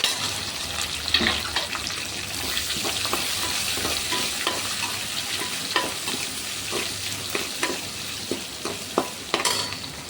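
Garlic and a large chopped onion sauté in hot oil in a pan for a greens-stalk upma, a continuous sizzle under repeated close spoon scrapes and taps throughout.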